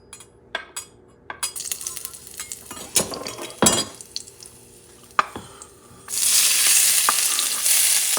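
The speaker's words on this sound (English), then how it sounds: "I'm going to start sauteing the onions" Yellow onion sautéing in a pan just used for pork chops: scattered clinks and spatula taps at first, then a sudden loud, sustained sizzle as the onions hit the hot oil, close and bright.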